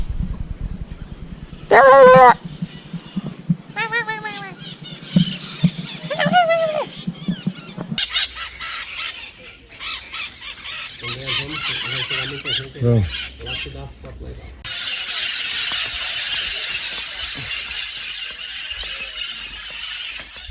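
Loud, harsh squawks and squeals from a green parrot flock calling from cliffs ring out early, then a wash of continuous noisy chatter and wind takes over, with a voice talking at times.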